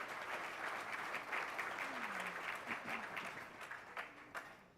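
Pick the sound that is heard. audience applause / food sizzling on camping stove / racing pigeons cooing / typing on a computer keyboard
audience applause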